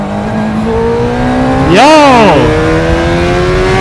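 A BMW M2 accelerating hard nearby, its engine note climbing and falling in a single loud surge over steady road and motorcycle noise, with a short shout heard.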